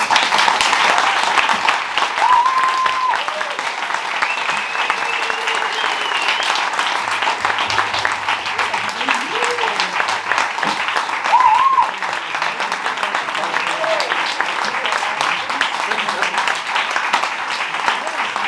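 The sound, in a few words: audience applauding three panel guests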